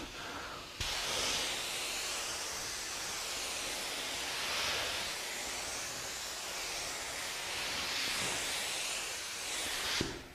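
A professional spray gun hisses steadily as it sprays dye onto wood, a continuous, fairly quiet airy spray that starts abruptly and holds with slight swells until it cuts off at the end.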